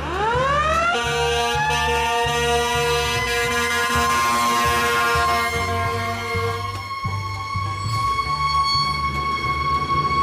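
A toy fire truck siren rises and holds a steady electronic wail for several seconds alongside a repetitive tinny melody, fairly loud and close.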